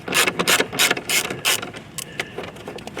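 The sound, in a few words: removing a 6mm T27 Torx head bolt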